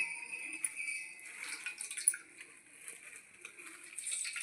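Coconut milk being squeezed by hand from wet ground coconut through a net strainer into a bowl, giving soft, continuous dripping and trickling liquid sounds close by, with no talk.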